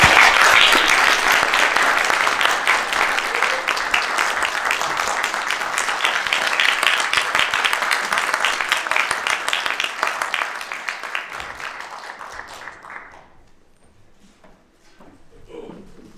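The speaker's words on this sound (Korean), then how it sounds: "큰 박수로 이충근 박사님 환영해 주시면 감사하겠습니다" An audience gives sustained, loud applause welcoming a speaker to a lecture, steady clapping that fades out near the end, followed by quiet room sound.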